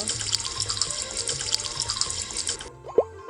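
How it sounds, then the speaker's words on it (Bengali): Clothes are scrubbed by hand with soap and water, a steady wet sloshing and swishing that stops abruptly, followed by a small splash. "সাবান দিয়ে সুন্দর করে ধুইতেছে"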